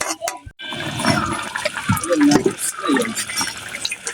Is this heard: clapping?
no